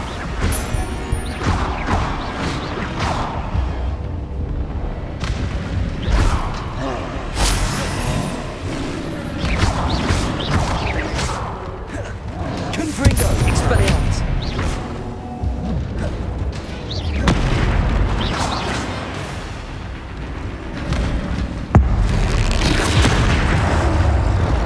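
Booming blasts and crashing impacts from spellcasting combat in Hogwarts Legacy, loud and recurring over a dense, chaotic battle din with no pauses.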